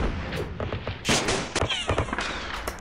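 Gunfire in a World War II strategy game, a cluster of sharp cracks and thumps landing in quick succession over a couple of seconds, fairly loud with some echoing tail.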